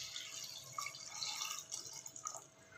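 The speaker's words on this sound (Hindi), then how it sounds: "1 लीटर के करीब पानी ऐड कर देंगे इसमें" About a litre of water is poured into a pot of chopped vegetables, including carrots and beetroot, for pav bhaji: faint splashing and trickling with soft drips, quiet and close.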